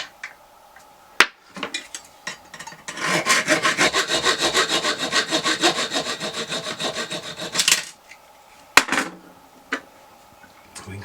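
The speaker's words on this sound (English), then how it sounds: "Next, saw the Johnny bolts down." A hand saw cuts down toilet closet bolts during a wax ring replacement, giving about five seconds of steady rapid rasping strokes, close and fairly loud, with scattered metallic clicks and taps before and after.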